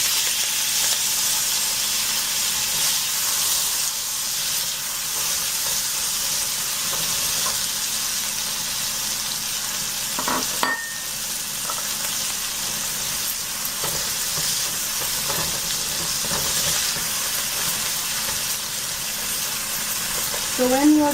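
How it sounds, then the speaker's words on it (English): Tomatoes and cilantro frying in a pan, a steady broad sizzle running throughout with a few faint utensil clinks, close and fairly loud. "So you let your tomatoes cook about 5 minutes."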